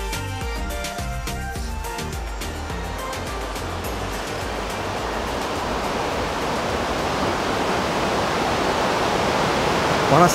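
A forest waterfall in Sinharaja roars as a continuous, full-bodied rush that grows louder and denser toward the end. Rhythmic music is heard faintly at the start.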